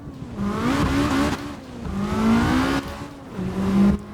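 Sim racing game engine from a cockpit view of a right-hand-drive car with very short low gears, revving up in three rising surges with quick drops between shifts, loud and close with no talking.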